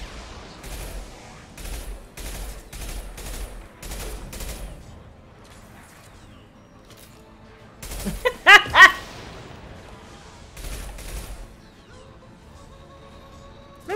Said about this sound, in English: I love this rifle. Sounds like it.